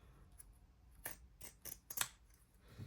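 Scissors snip through fabric while trimming the bulk from a sewn oven mitt, a few crisp, quiet cuts in close succession with short pauses between them.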